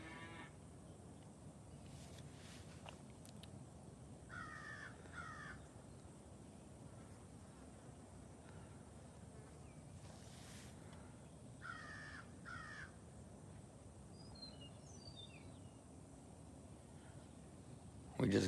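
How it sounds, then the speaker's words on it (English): Birds, including hawks, call on a rural goat farm in Cajun country. Distant caws repeat in pairs over a quiet outdoor hush, with faint chirps later on. "listen to the birds, the hawks"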